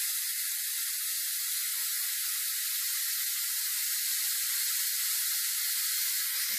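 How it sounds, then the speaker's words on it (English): Steam hisses from a Pressure Cooker Pro cooking Korean BBQ chicken, a faint, steady, high-pitched hiss running unbroken throughout with no voices. "Now you can see the steam."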